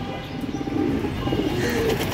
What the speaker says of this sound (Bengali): এখানে সিলভার নর কবুতরটা আমার রেসার মাদিটার সাথে ওইখানে ডাকাডাকি করতেছে